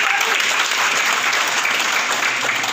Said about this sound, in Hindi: तो इस पे भी थोड़ा ताली हो जानी चाहिए।